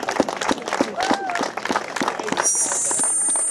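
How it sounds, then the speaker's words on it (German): Crowd applause at an outdoor rally, a rush of scattered clapping that swells and stays loud through the short stretch, with a raised voice audible over part of it. "Vorsicht mit dem Applaus"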